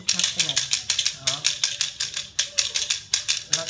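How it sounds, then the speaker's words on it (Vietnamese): Dice rattled in a cup, shaken in a fast steady rhythm of about fifteen sharp clattering bursts, close and loud, with a faint voice speaking underneath. "bước đầu tiên là lắc xúc xắc thế này đó"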